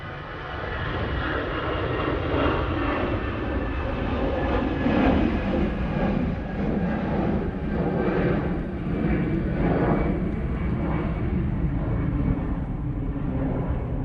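EasyJet airliner at Manchester Airport, a loud, sustained jet engine roar with pulsing, slowly shifting tones as it passes close by, no talking over it.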